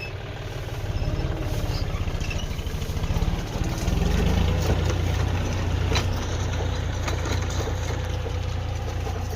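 A tractor engine running in a field where a green manure crop is being worked into the soil, a loud steady rhythmic chug close by that thickens and deepens partway through.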